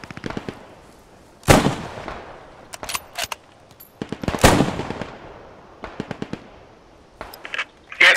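Grenade explosions and gunfire fill a battle in the PostScriptum video game: two loud blasts stand out among scattered sharp shots and crackling bursts, some near and some farther off.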